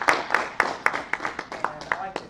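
At a MATHFest closing event, an audience gives a short round of applause, heard as a series of distinct, evenly spaced claps rather than a full wash, fairly close.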